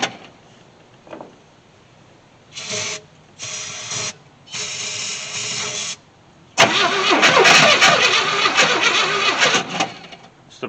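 A starter cranks a burnout truck in short bursts, cutting out between tries, until the engine catches and runs loudly with a rough, uneven idle.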